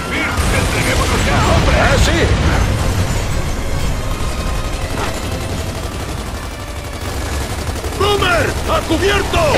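Heavy gunfire in Gears of War 2 during a defensive battle beside a drill: dense rapid bursts and booming explosions, loud and continuous, with shouted game dialogue over the fire.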